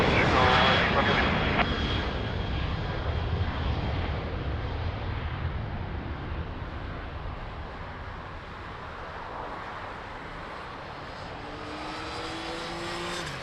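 Airliner landing at Lisbon Airport, a loud steady engine roar that eases slightly over about thirteen seconds, with no voices.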